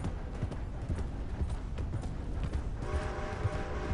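Horse hooves cantering at a steady clip-clop rhythm in Red Dead Redemption 2, close and continuous, with a brief tonal game sound joining near the end.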